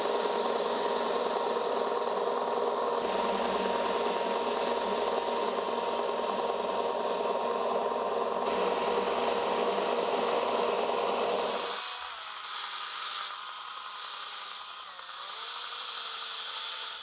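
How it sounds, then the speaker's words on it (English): A belt sander grinds down a part for a prop sword and shield build, a steady loud whine running for about twelve seconds before the pitch and load shift as the work changes, with no talking. "I think I'll start on the belt sander to remove most of it"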